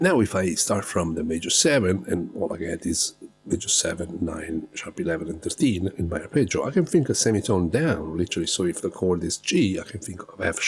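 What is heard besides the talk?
No everyday noise stands out behind the speech.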